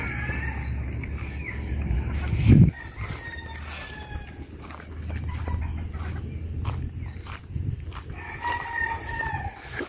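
Chickens cluck and a rooster crows amid outdoor farmyard ambience, with a brief loud rustle near the start.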